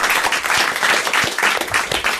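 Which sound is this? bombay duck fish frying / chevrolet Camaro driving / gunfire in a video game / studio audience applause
studio audience applause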